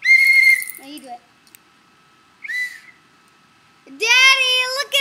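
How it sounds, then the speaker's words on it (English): Short, shrill toots from a whistle come in bursts, the last one longer and louder, with a voice heard between them. "He's blowing his own whistle."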